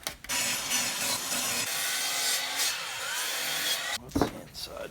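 Birch plywood, 3/4 inch thick, is sawn for a bookshelf base, a close, loud, steady rasping cut lasting several seconds before ending in a brief clatter.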